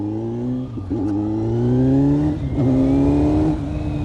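A Kawasaki Z900 motorcycle fitted with a black Leo Vince GP Corsa slip-on exhaust revs and accelerates up close, a loud rising engine note with brief dips between gear shifts.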